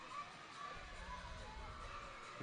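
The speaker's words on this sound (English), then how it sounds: "The Kilsyth crowd doing their best to get behind their Cobras" Spectators at a Kilsyth basketball stadium cheer on their Cobras during an NBL1 men's game against Dandenong, a faint, distant crowd roar that stays steady throughout.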